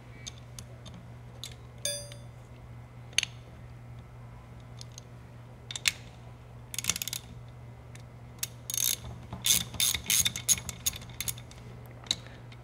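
A ratchet wrench with a 9/16 socket loosens the reference pressure port on an Eaton Carter ground fueling hydrant coupler, giving sparse clicks early and then denser bursts of ratcheting toward the end over a steady low hum.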